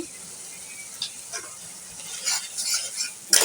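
Spices and green chilies get stirred in a hot frying pan, a soft steady sizzle broken by a few scraping strokes of the spoon, with a louder scrape at the end.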